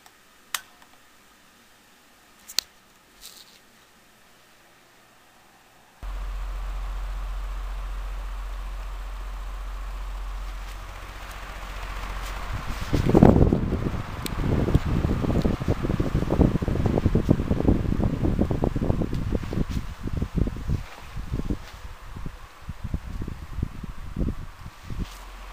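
Classic 16-inch pedestal fan switched on to its low setting, a steady close airy hum with gusty buffeting that grows rougher partway through, after a few quiet clicks.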